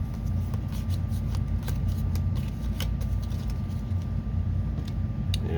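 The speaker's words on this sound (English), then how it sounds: "we'll just go ahead and shuffle these anyway, just in case." A deck of playing cards is shuffled during a tabletop baseball replay, giving soft riffling and snapping flutters close by. Steady low background hum runs underneath.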